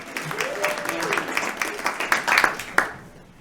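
An audience at an outdoor-inclusivity panel discussion and mixer applauds a speaker named Lee, a moderate burst of clapping from a crowd that swells briefly and then fades out within a few seconds.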